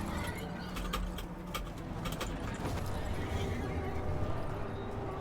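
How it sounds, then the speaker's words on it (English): Horse whinnies and neighs from a flying mount in the Duviri area of the video game Warframe, mixed with clip-clop hooves and bright jangling effects over a steady game soundscape. "the horse can fly"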